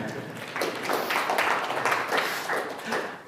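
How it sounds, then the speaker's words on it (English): An audience claps in sustained applause at a data-in-government event, a steady, dense patter of many hands continuing for several seconds at moderate loudness with no talking. "I think that deserves a round of applause."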